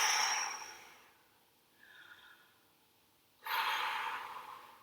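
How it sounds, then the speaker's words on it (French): A person exhales deeply during a relaxation breathing session, with a long soft breath out, a faint pause, then another strong airy exhalation close to the microphone, with no talking. "Et vous soufflez"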